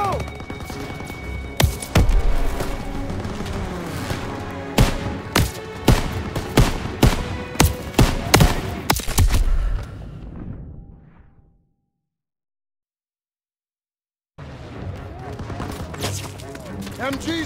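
Heavy gunfire and bursts from a World War 2 battle in Call of Duty, with dense sharp shots and booms over the first ten seconds. It drops to silence, then low battle noise returns.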